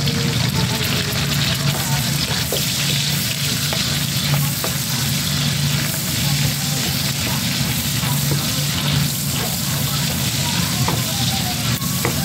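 Ginger and onion sizzle and fry steadily in a hot pan of laing being cooked Ilocano style, a continuous close crackle with occasional stirring scrapes.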